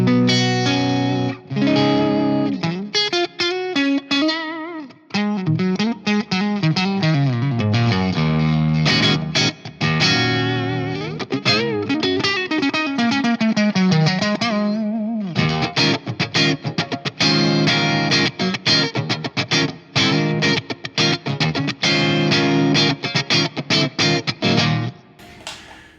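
An electric guitar runs through a Jet City JCA50H amp on its Crunch Overdrive channel with the master raised, playing gritty distorted chords and riffs with short pauses, loud and up front.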